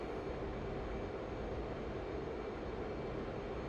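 Fighter jet engine roar from an F/A-18 Hornet in the DCS flight simulator game during a dogfight with a MiG-29, a steady, dense, loud whooshing drone lasting throughout with no talk.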